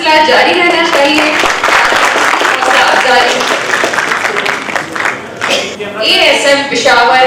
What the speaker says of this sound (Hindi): तालियों का सिलसिला जारी रहना चाहिए।